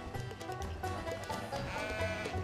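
Sheep bleat repeatedly in the video game LittleBigPlanet; the cries are soft and overlap one another against a busy game soundscape.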